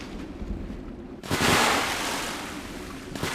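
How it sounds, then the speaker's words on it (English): A sudden loud splash or surge of water bursts in after a low, wind-like ambient rumble, then settles into a sustained rushing wash, in the video game Metal Garden set in an abandoned megastructure. "That's the scariest water sound I have ever heard."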